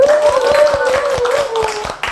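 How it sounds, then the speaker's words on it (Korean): An audience at a Gyeongnam Democratic Party gathering claps in a quick, rhythmic burst, with a sustained voice-like tone running over the applause. "힘찬 박수와 함께 출발하도록 하겠습니다"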